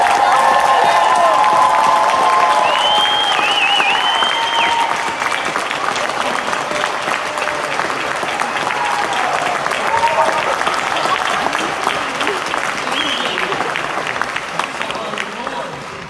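An audience in a room breaks into loud, sustained applause and cheering, dense clapping that holds steady the whole time and eases slightly near the end, with shouts and voices mixed into the crowd noise.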